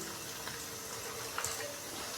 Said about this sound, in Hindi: तो अभी मैं इसके अंदर थोड़ा सा पानी डालूंगा